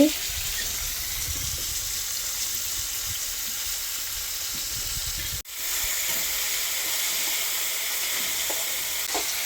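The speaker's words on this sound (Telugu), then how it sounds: "దొండకాయలు వీటిని గట్టిగా పిండి ఆయిల్లో వేసుకోవాలండి" Ivy gourds squeezed dry and dropped into hot oil, sizzling as they fry with a steady, dense hiss that runs throughout, dipping briefly once midway before resuming just as strongly.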